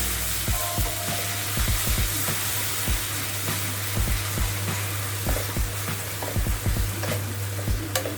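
An onion and red chilli powder paste fries in hot oil in a pan for a paneer and capsicum gravy, a dense steady sizzle with frequent small scrapes and taps of stirring, close up and with no voices.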